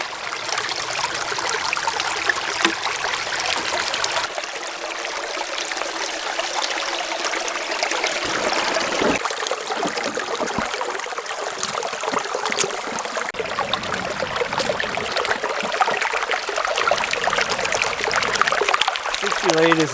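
Water rushes steadily through a gold sluice as dirt is hand-fed into it, a continuous close trickling and splashing wash lasting throughout, with occasional scrapes.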